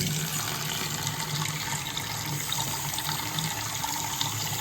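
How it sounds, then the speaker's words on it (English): Water runs steadily from a faucet on a Rinnai tankless water heater system being purged of air, a loud continuous broadband rush with no pauses and no talking. "So let's run the water and make sure we have all the air out."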